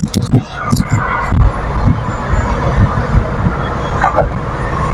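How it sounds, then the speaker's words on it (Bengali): Strong wind buffets a moving car on Dhaka's elevated expressway, making a loud, continuous low rumble with uneven gusty thumps mixed with road noise. "প্রচন্ড বাতাস উপরে"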